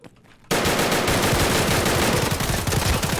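Rapid, sustained automatic gunfire in the shooter game Escape from Tarkov, as a whole magazine is emptied. A short quiet lead-in gives way to loud, continuous, close bursts that run without a break to the end.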